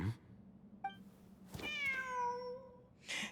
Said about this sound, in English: there it is. The cat.